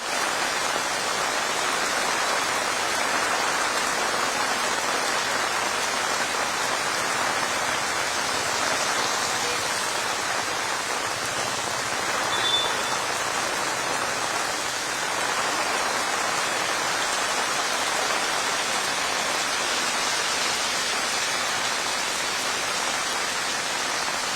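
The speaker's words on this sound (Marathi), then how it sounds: "मुंबईतील शिवाजी पार्क परिसरामध्ये मुसळधार पाऊस बरसतो" Heavy rain pours down steadily in the Shivaji Park area of Mumbai, a dense, continuous hiss that stays loud and even throughout with no voices.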